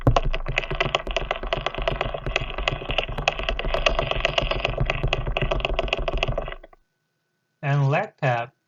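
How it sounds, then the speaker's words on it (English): A Schizocosa stridulans wolf spider makes its idle courtship signal of four-leg percussive taps and pedipalp stridulation: a dense, steady, rapid rattling buzz lasting several seconds that then stops, followed by a voice speaking. "And idle is produced by percussion by four-leg taps and stridulation using pedipalps."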